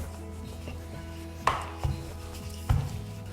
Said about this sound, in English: Get a rolling pin and gently from the middle roll out, the middle down, flip it over, do exactly the same thing.